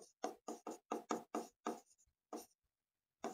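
Writing on a board during a physics lecture: a run of crisp, separate strokes in quick rhythm, then a pause and a few more, close and fairly quiet with no speech.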